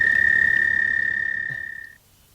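Toads croak in a steady, rapid trill during a May spring night in Connecticut, loud and close for about two seconds before stopping abruptly, leaving only faint background.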